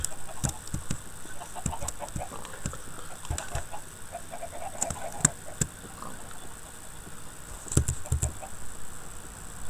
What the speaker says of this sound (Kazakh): Тауықтар не жүрген?